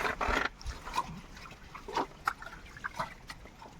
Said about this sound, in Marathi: हे बघा आता पाणी जाते बघ